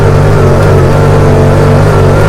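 A Honda Pioneer 1000 UTV with a 1,000 cc engine pulls uphill through soft sugar sand, its engine droning loud and steady throughout with a continuous low rumble and no voices.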